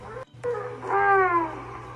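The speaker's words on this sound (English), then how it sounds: "If I take a seagull and slow the seagull down, sounds like a gorilla or a whale" A seagull call slowed down to a deep, groaning moan like a gorilla or whale, heard as a short low cry with a sliding pitch that swells and fades over about a second.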